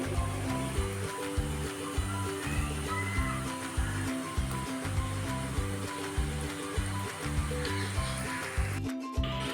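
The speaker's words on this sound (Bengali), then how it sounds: "এরপর একটা কড়াইতে আমি তেল দিয়ে একে একে মিষ্টিগুলো ভাজতে" Semolina and milk-powder sweets fry in oil in a wok, a steady sizzle running beneath louder rhythmic background music for the whole stretch.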